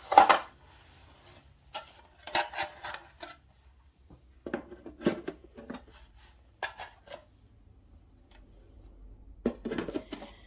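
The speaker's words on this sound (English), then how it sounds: "What I will do is pop these lids on." Plastic lids pressed onto seed trays for cold stratification give a handful of sharp, close plastic clicks and snaps, scattered with quiet gaps between them and no talking.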